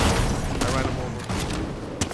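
Rapid Fortnite gunfire crackles in dense bursts under excited player chatter, with a few sharper cracks standing out near the start and the end.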